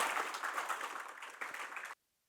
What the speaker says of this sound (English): Please give them a big round of applause as we begin today's spectacular show, Yoda